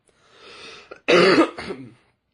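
A single short cough with a throat-clearing rasp, close and fairly loud, preceded by a soft breath, all from one person with no talk over it.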